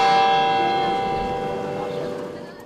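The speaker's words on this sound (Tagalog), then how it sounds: "Pinatunog ang kampana ng Manila Cathedral ngayong gabi." A large bell of Manila Cathedral tolls once at night, its rich ringing tone slowly fading away, loud and resonant with no other sounds.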